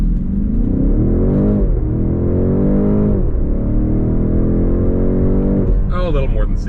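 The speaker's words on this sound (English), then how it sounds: "We're just going to do a little 0 to 60 run here." A 2024 BMW X6 M60i accelerates hard from 0 to 60 mph, its engine heard from the cabin as a loud, continuous roar that climbs in pitch, drops briefly at each upshift and climbs again.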